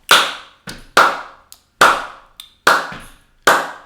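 Sharp hand claps tapping out a 2-3 samba clave pattern, eight crisp strikes in uneven groupings with short ringing decays, close and alone with no voices.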